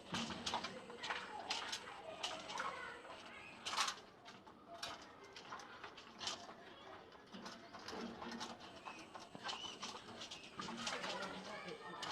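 Pigeons coo in a busy pigeon showroom in Pabna, with soft calls and wing flutters scattered through steady background chatter and clatter, while people talk.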